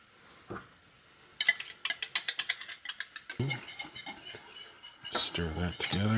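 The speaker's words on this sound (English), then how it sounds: "Stir that together with the garlic and the ginger." A utensil stirs hoisin sauce with garlic and ginger in a pan, rapid metallic clinks and scrapes in a quick rhythm, close and clear, after a brief quiet start, with a low voice near the end.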